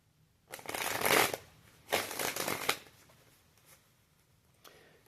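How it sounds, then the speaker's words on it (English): Tarot cards shuffled by hand in two quick riffling bursts, close and fairly loud, followed by softer card handling and a faint final flick, with no talking. "One more shuffle."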